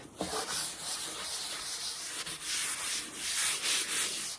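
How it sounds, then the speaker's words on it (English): Brown wax wiped back across the top of an old scrap-wood work bench, a steady close rubbing and scuffing with rhythmic strokes and no speech. "And now I'm putting the Jolie brown wax on there. Got the top pretty much covered. Now wipe it back."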